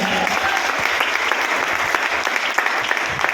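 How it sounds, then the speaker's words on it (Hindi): A university event audience gives a loud round of applause, dense continuous clapping that holds steady for a few seconds without speech. "एक बार अपने लिए जोरदार तालियां बजाओ।"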